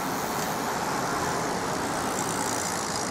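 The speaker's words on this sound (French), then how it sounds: "Je filme rapidos parce qu'il y a beaucoup de voitures qui circulent." Steady road traffic with many cars passing near the town hall of Chazay d'Azergues, a continuous broadband roar of engines and tyres with no clear gaps between vehicles.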